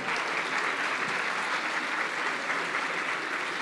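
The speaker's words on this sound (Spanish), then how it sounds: "un aplauso." Audience applause at a Pixelatl 2022 talk, a steady dense wash of many hands clapping that stays loud and even throughout, with no voices over it.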